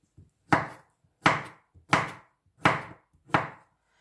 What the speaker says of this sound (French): si j'ai fait un morceau trop gros, je peux venir le recouper